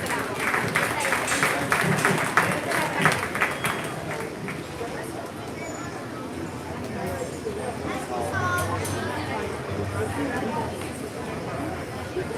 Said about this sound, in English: Let's give them a nice round of applause here in your first class.